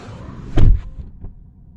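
A car passes outside a 2024 Tesla Model 3, heard from the back seat through laminated glass as a single muffled whoosh that swells briefly and fades, with a faint thump afterward against a low cabin hum.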